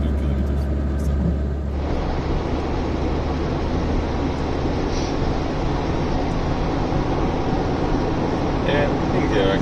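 Citroën XM car accelerating on a road trip, a steady rumbling engine and road drone heard from inside the cabin, loud and continuous, rising in after a brief quieter start, with a voice speaking over it.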